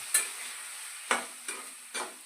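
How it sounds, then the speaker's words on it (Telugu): Tomato pieces fry in hot oil for tomato pickle, with a soft sizzle broken by four short scraping stirs spaced unevenly across a couple of seconds. "నూనె మరిగింది ఇప్పుడు ముక్కలు వేసేసుకుందాం ఇవి బాగా వేపుకోవాలి"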